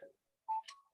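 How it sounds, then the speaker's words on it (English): A small electronic chime from a landline telephone in a home, a short pair of tones near the end after a brief earlier sound, faint and with no talk over it. "What is that little chime? That's my phone."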